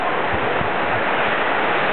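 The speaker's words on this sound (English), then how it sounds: "This is a big waterfall." Roar of the big Neda Waterfalls in the Peloponnese, a steady broadband rush of falling water filling the scene evenly and loudly, with no breaks and no voices.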